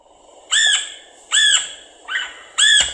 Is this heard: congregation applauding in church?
no